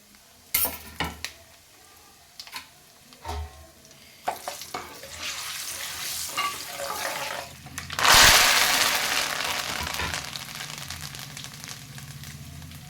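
Green chillies drop into hot oil with crackling mustard seeds and cumin for a chilli-tomato pickle tempering: scattered pops and spoon clatter, then a sudden loud sizzle that slowly settles.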